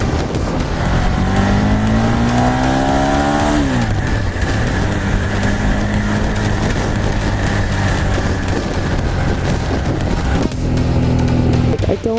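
A Ducati Monster 1200S motorcycle accelerates hard through quick-shifted gears, its engine note climbing and dropping with each shift before settling into a steady, loud cruise, with wind noise throughout.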